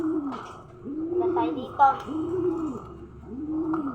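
Pigeons cooing in repeated low, rounded phrases at a steady, unhurried pace, fairly close, with a voice briefly speaking over the middle.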